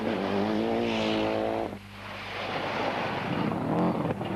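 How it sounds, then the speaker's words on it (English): A rally car on the RAC Rally works through a tight man-made chicane, its engine revving up and then cutting back to a lower drone before climbing again. The car is close and loud, with wind rumble underneath. "Ari goes round the tight chicane, which is man-made, to try and slow the cars down"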